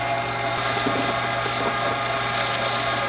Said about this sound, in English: This is the 1 horsepower made with meat grinder